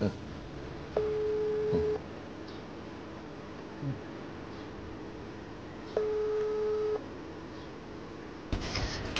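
Ringback tone of an unanswered phone call, two long repeating tone bursts about five seconds apart, heard over a constant low background hiss.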